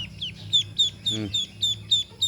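Two-day-old newborn Ilieng ducklings peep in a regular series of short, bright calls close by, with a brief burst of talk in the middle.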